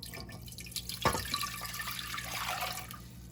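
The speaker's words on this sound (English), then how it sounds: "Always rinse your rice." Water running and splashing as rice is rinsed in a kitchen sink, a steady close rush of flow with a sharper splash early on and no talk.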